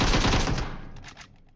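A quick burst of AKM automatic fire in PUBG Mobile rattles out as several rapid shots that fade into a short decaying echo.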